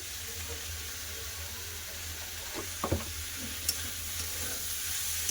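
Steady sizzling of chopped tomatoes and salt dropped into frying masala for a carrot, potato and pea curry, with a few brief stirring clinks and scrapes over a constant low hum, no voices.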